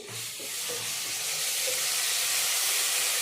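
Ginger garlic paste frying in a pan for a tempered rice and chicken curry dish: a steady, close, bright sizzle and hiss with a few soft stirring scrapes, no voices.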